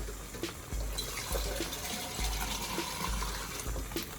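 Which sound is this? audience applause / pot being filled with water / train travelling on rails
pot being filled with water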